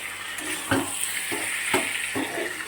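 Food stir-fried in a pan on the stove, a continuous loud sizzle broken by a few scraping strokes of a spatula against the metal, with no talking.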